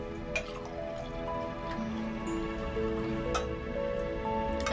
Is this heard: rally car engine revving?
no